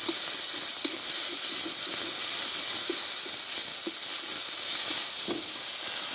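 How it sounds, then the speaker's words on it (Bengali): Spice paste of ground ginger, green chilli and onion with turmeric sizzles steadily in hot frying oil for a village-style small fish and cauliflower dish, a loud, even hiss throughout with faint clicks underneath and no talking. "আমি দিয়ে দেবো মশলাটা একটু হলুদ দিয়ে দেবো তাহলে তেলটা ছুটবে না"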